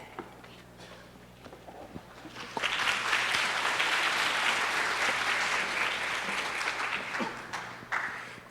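Applause from a conference audience at a Hadoop technical talk in Taiwan rises after two seconds of quiet room tone into a broad, sustained wash of many clapping hands, then begins to thin toward the end.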